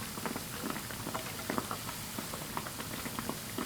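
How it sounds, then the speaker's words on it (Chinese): Flour-dough sugar cakes deep-fry in oil over medium heat, giving a steady bed of soft bubbling with scattered light crackles and pops, close and even throughout with no talking. "全程保持中火慢炸，防止一下炸糊"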